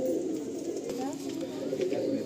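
Pigeons coo steadily in a loft housing white generation birds, Fulshira cocks and hens and Pulsar pigeons. The low murmuring is continuous and fairly close, with some faint background chatter mixed in.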